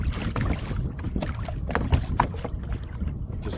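A Perception Showdown pedal kayak with a small plastic propeller glides through water into the wind, a close continuous wash of lapping water and wind buffeting on the microphone, with no talk.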